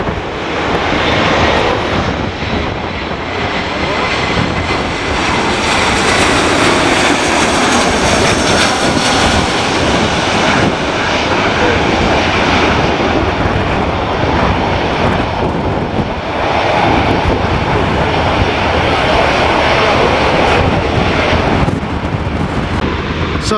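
An Aer Lingus jet airliner flies past near an airport on a windy day, its loud, steady engine roar filling the whole stretch with continuous broadband rumble and wind buffeting, with no talking.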